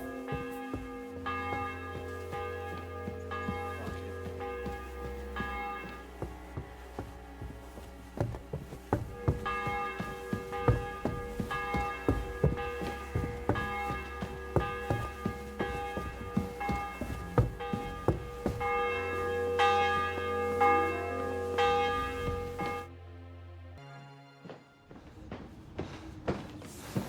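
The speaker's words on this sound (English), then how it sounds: "The bell's ringing for Hans the 5th time." Church bells peal in a medieval Bohemian village in Kingdom Come: Deliverance II, steady overlapping strokes ringing on with long sustained tones before fading out near the end, with no talking.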